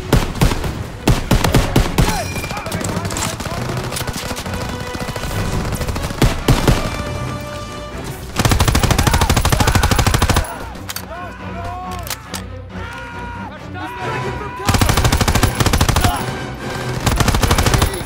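Loud, sustained automatic gunfire and rapid bursts in the World War II shooter Call of Duty: WW2, with booming shots and soldiers shouting over the combat throughout.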